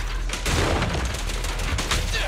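Rapid gunfire and explosive booms in the video game Zenless Zone Zero, a dense continuous volley of shots and impacts, loud and close throughout, with a voice speaking over the action.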